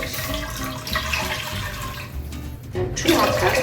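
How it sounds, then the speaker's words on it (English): Four cups of water pour from a vessel into a soup pot, a steady splashing stream that swells louder toward the end. "So I'm gonna go ahead and add 4 cups of water."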